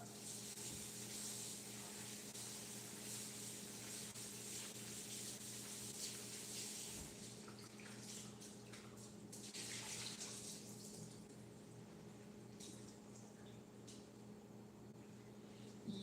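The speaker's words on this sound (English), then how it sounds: "let me rinse this up." Steady running water from a kitchen tap while dishes are rinsed, a continuous faint hiss with light rubbing and clinks mixed in, heard close with no voices.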